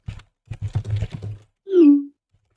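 An iMessage notification chime used as a magical sending stone in a tabletop game rings once as a short bright tone, right after a run of light clicking taps, with faint murmurs around it.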